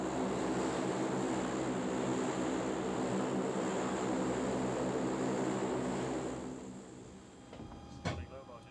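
Loud, steady droning of a C-130 Hercules cargo plane's propeller engines heard from inside, then fading somewhat near the end with a brief clatter.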